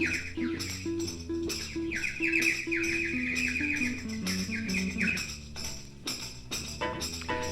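Electronic bird-like chirps and tweets imitating baby birds chattering in a nest, a busy continuous run of rapid twittering calls over a steady musical backing.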